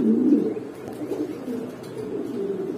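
Racing homer pigeons coo in a steady, continuous low murmur of overlapping calls, close by and moderately loud, with no talking.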